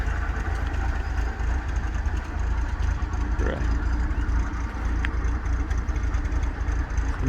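A 1976 Fiat Spider, recently revived after sitting for years, idles smoothly in a steady, continuous low engine rumble throughout, with a faint brief rattle midway.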